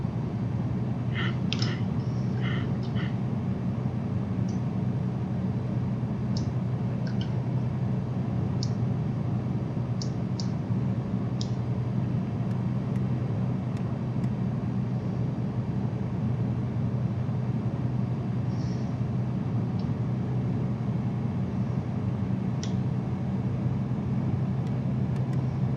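Zlin Shock Ultra light aircraft engine in Microsoft Flight Simulator, run near maximum RPM at about 100 knots, giving a steady, loud low drone with constant rumble and a few faint clicks above it throughout.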